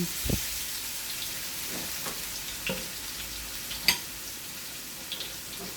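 Garlic sizzles in hot cooking oil in a pan for pancit canton, a soft steady frying hiss with occasional light clinks and stirring taps from a utensil.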